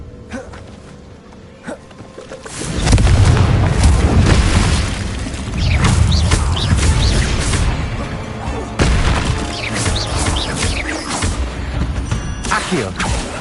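An explosive blast from the Confringo spell in a Harry Potter video game, a sudden booming burst followed by a long roaring, crackling rumble with further blasts layered in, loud and close.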